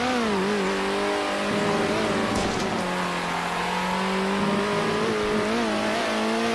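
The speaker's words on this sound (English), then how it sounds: "The engine noises can be a lot." A racing car engine in a video game drones loudly throughout, its pitch rising and dipping with revs and gear changes, with a brief tire squeal partway through.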